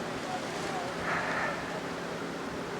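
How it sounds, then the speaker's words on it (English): Wind buffets a microphone outdoors on a street during a ride in Arizona, a steady broadband rush that swells slightly midway and never lets up. "God, the wind's blowing me now."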